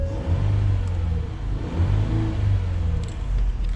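A 2015 Ford Explorer Sport 4WD starts by push button. Its engine fires and then holds a loud, steady rumbling idle with a slight rise in revs, close by and with no talk over it.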